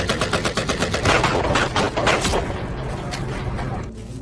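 Rapid bursts of gunfire crack back and forth in a shootout between cartel gunmen and police, dense volleys for the first two seconds, then thinning to scattered, quieter shots.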